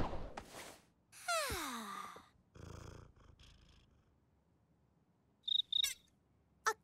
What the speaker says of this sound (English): Is that a cricket?